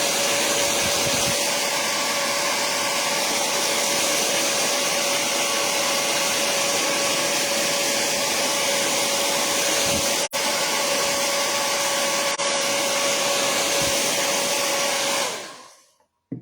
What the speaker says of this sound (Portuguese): Então agora eu vou secar.